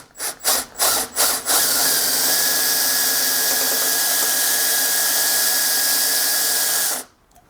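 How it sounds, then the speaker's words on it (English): A power drill runs in reverse while drilling out a broken bolt in an engine, whirring loudly and steadily for several seconds after a few short bursts, then cutting off abruptly at the end. "I'm going to spin the drill in reverse."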